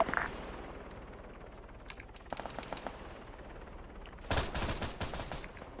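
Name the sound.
machine gun fire in Arma 3 video game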